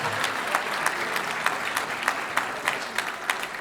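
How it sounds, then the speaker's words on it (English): A steady round of audience applause fills a press conference room at a 60th birthday event, dense and even throughout with individual sharp claps popping out of the wash, heard alone without talk. "I think she deserves a big round of applause for that."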